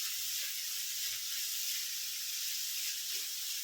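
Ginger, onion and green chilli sauté with salt in a pan over low flame for a Kerala inji pachadi, giving a steady, soft, even sizzle with no talking.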